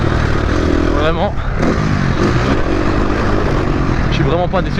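A motorcycle engine drones steadily while riding, with wind noise and rising and falling pitch as it shifts gears.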